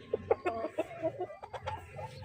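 A hen clucks in a short series of soft, close calls with a few louder bursts, heard alone without talk.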